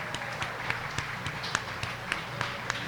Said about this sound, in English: Give Sonny a round of applause, please.